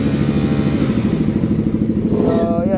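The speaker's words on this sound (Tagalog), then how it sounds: "Medyo maingay kasi yung tambutso na ito, chinutune yung race bike." Suzuki Raider 150 Fi motorcycle with a tuned race exhaust running close by, a loud steady throbbing engine drone that holds throughout with a slight rise near the end.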